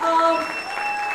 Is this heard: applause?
yes